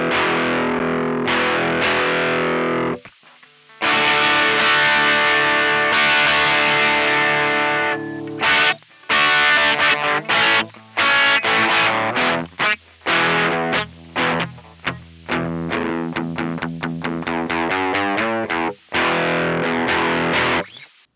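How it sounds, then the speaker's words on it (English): An electric guitar runs through an Orange Cypress TT15 amp simulation in Reaper, playing a distorted riff of chugging chords and quick stabs with brief gaps, loud and up front with no talking. "we'll take a quick listen to the guitar in Reaper. So the first one we'll look at is the orange amp again. So here we have the Cypress TT15."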